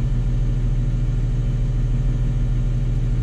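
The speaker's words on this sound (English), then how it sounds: "The next step is switch on the" Fendt 700 series tractor running with its 1000 PTO engaged, a loud steady low engine rumble and drone held close and unchanging throughout.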